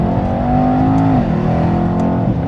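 A Mercedes E63S AMG with a 603 hp engine revs hard and steadily on a downshift, a loud, close, sustained drone with a slight pitch dip midway and no talking.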